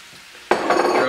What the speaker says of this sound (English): Drop the onions right on in.